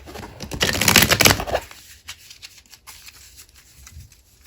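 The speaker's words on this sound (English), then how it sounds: "So I haven't finished yet shuffling, guys, because I wanted to cut the cards." A brisk riffle of tarot cards being shuffled, loud and close for about a second and a half, then quieter scattered card handling and light taps.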